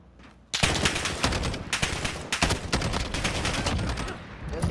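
An FN SCAR 17 rifle fires in a video game, delivering dense, loud bursts of rapid shots that keep up almost without a break for several seconds after a quiet start.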